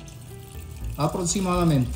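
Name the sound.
water poured into a pressure cooker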